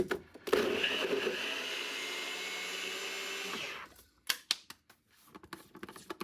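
Soft, pappy bread is blitzed into fine crumbs in a blender for cheese paste fishing bait, a steady loud whirring that runs for several seconds and then cuts off, followed by a few knocks and clatters.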